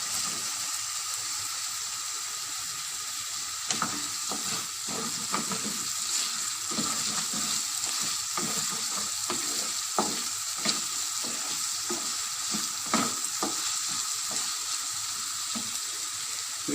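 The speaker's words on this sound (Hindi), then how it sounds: "अब हम इसमें बारीक कटा हुआ टमाटर जो हमने रखा हुआ वो डाल दें।" Finely chopped tomato frying for an Afghan omelette with potatoes, a steady loud sizzle and crackle in the pan throughout, with scattered sharp pops and stirring clicks, no talk.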